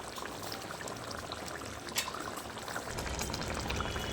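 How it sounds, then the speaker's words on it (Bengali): Chitol fish curry (chitol macher mutha) simmers on a low to medium flame in a home kitchen, giving a steady soft bubbling hiss that swells a little toward the end, with no talk over it. "এটা আরও মিনিট 2-3 লো টু মিডিয়াম ফ্লেমে সিদ্ধ হতে দেবো"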